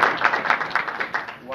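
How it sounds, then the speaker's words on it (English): An audience claps at a 1994 BotCon toy convention presentation by Hasbro, producing a brief burst of quick, uneven claps heard up close, mixed with some talking. "you guys can clap now"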